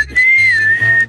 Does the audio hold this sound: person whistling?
yes